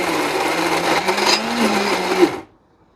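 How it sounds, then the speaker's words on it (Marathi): A mixer grinder grinds raw chicken into keema indoors, a loud, steady whirring motor drone with a slight rise in pitch that cuts off abruptly near the end, leaving silence. "तर आपल्या दुसऱ्या बेडरूम मध्ये आलोय मिक्सर घेऊन आणि चिकन घेऊन"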